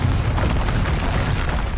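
A Confringo spell blast in the Hogwarts Legacy video game on PS5, a single loud, sustained booming roar of explosion filling the short moment without any voices.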